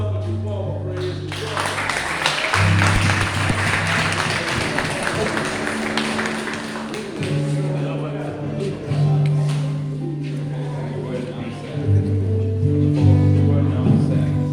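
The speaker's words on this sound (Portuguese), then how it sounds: "a igreja pode dar uma salva de palmas para ele" A church congregation claps over sustained organ or keyboard chords, the applause moderate and diffuse, swelling and thinning beneath the steady music.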